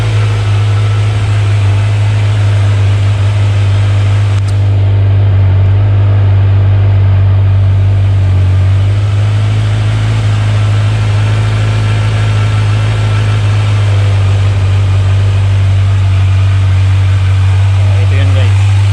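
A Kawasaki Z900 SE motorcycle engine idles steadily while warming up, a loud, close, constant low drone with someone talking over it.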